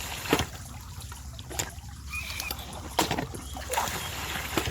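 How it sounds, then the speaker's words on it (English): A homemade gold dredge pump with a suction extension draws up gravel and water from the bottom of a crack, making a constant churning gurgle broken by sharp knocks and rattles of stones. "It's sucking up some garbage down the bottom of that crack."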